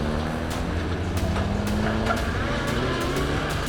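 Drift cars battle on a racing circuit during a Lithuanian drift championship round, a steady roar of engines and tire noise filling the scene continuously at high level with no pauses.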